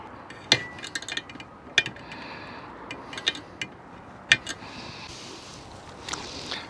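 Screws being tightened on a stainless steel base for a Chinese diesel heater, working around the flue: a few sharp metallic clicks and taps spaced irregularly over quiet room tone, fairly close, no talking.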